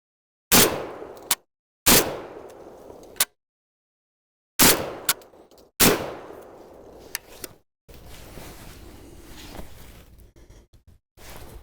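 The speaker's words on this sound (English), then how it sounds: "these legitimately are the first rounds from this shotgun" A Tokarev TBP12 shotgun fires its first rounds outdoors: four loud, sharp blasts, close by, each followed by a short ringing decay, with gaps between shots. Quieter rustling and handling noise follow.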